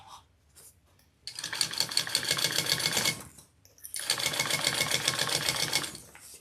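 A sewing machine stitches fabric cut from old fishing waders in two sustained bursts of rapid, even mechanical whirring, separated by a brief pause and preceded by a few light clicks.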